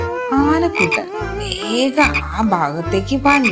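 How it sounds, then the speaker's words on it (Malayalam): Repeated low frog croaks from a pond in a children's animal story, coming in four steady bursts under a child-friendly narrator's voice that talks throughout. "അപ്പോഴാണ് ദൂരെ തവളച്ചേട്ടന്റെ കരച്ചിൽ കേട്ടത്."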